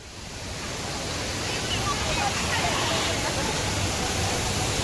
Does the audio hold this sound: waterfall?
yes